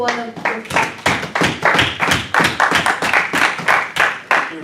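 Church congregation clapping in a fast, steady rhythm during a service, with many hands striking together in loud, regular bursts that continue throughout.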